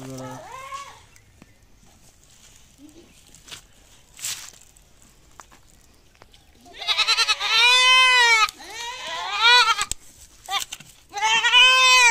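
A goat bleats loudly and repeatedly while receiving a deworming injection, several long wavering cries close by in the second half, with a person talking earlier.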